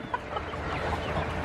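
Homestead chickens near a fenced run cluck softly in short, scattered calls over a steady outdoor background, with no one speaking.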